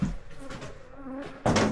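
A swarm of bees buzzes close by in a steady, droning hum that swells into a louder burst at the end.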